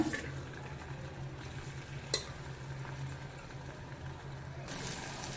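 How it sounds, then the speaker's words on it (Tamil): Cut okra fries in hot oil in a kadai, a soft continuous sizzle with occasional clinks and stirring scrapes, fairly quiet and close, with no talk. "எண்ணெய் சூடானதும் அதில் கட் பண்ணி வச்சுருக்கிற வெண்டைக்காயை கொஞ்சம் கொஞ்சமாக ஃப்ரை பண்ணி எடுத்துக்கோங்க"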